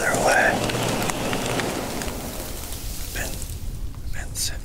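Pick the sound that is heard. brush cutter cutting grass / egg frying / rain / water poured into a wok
rain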